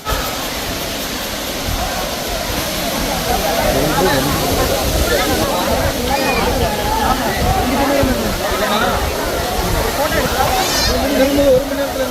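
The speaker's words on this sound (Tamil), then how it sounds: "இந்த ஆகாயகங்கை அருவியோட உயரம் வந்து 300 அடி மக்களே" Agaya Gangai waterfall, about 300 feet high, roaring as a steady loud rush of falling water with people's voices murmuring and talking over it throughout.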